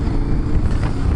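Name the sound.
KTM 1050 Adventure motorcycle accelerating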